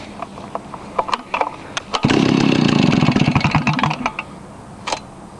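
Stihl 08S chainsaw with choke fully on being pull-started: scattered clicks and rattles, then a short burst of rough engine firing for about two seconds that sputters and fades back into intermittent knocks, without speech.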